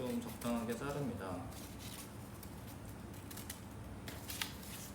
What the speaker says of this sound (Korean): 거름 종이를 좀 적당하게 자릅니다